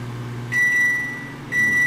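A microwave oven heating a frozen pizza hums steadily up close, and two long, clear electronic beeps sound about a second apart over the running drone, with no talking.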